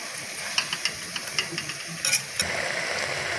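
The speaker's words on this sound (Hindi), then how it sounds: "ये देखिए चलो धीरे धीरे हम चलाते रहेंगे।" A spoon scrapes and clicks in a pan while sugar and grated watermelon rind for laddu are stirred, with irregular knocks and a brief burst of sizzle, then a steady hiss.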